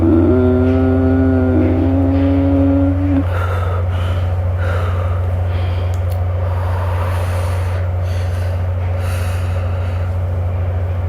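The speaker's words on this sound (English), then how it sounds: "continuing to breathe" Slow, deep breaths during a guided jaw-release meditation for TMJ pain, drawn in and out over a steady low hum, with a short voiced exclamation at the start.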